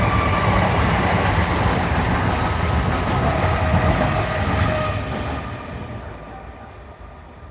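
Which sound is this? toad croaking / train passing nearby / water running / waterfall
train passing nearby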